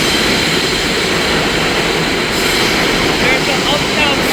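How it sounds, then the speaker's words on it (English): Uptown 1 subway train at WTC-Cortlandt station in New York, a loud continuous rumble and roar filling the platform with no gaps. "There's an uptown 1 train going to Cortlandt, back Cortlandt Park."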